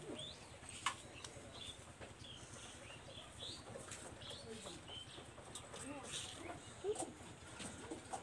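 Red-eyed pigeons cooing softly at intervals, with occasional wing flaps and faint chirps, over a busy background murmur of low voices.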